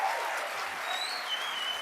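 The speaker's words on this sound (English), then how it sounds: "Final applause for them." Crowd applause at the Erasmus Generation Meeting 2023 opening ceremony, a wash of many hands clapping steadily from a large audience, sustained and even for the whole moment.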